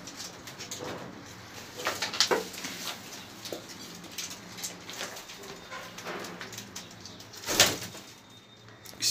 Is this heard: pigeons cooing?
yes